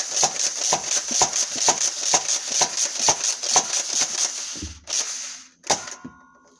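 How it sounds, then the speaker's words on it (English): Foam dart blaster being slam fired: a rapid, even series of about fourteen sharp clacking shots close by, followed by a short pause and a couple of separate mechanical clunks. "Be careful with the slam fire, because you can actually jam this blaster."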